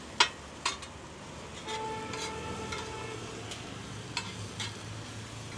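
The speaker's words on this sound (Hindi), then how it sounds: "अभी कांदा टमाटर भूनने के बाद वो टिक्की अभी हमें मिक्स कर देंगे।" Tikki being stirred into sautéed onion and tomato for ragda pattice street food: a soft sizzle with sharp spatula clinks and scrapes, several near taps at the start and a few more later.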